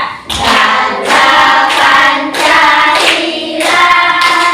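A fifth-grade class in Indonesia sings the national song Garuda Pancasila together while clapping their hands, with steady group voices and a clapping pulse running under the singing throughout.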